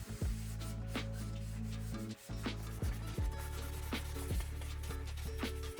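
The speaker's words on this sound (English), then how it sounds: "After you've scrubbed away all the grease and the grime" Air fryer racks are scrubbed at a kitchen sink to remove grease, giving steady close rubbing strokes in a repeating rhythm, with a low continuous hum running underneath and no talking.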